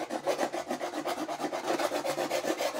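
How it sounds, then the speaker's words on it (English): Heavy paint is scraped off a painting panel in rapid, rhythmic rasping strokes, roughly five per second, close and steady with no pauses. "My first step is to scrape off any areas of heavy paint."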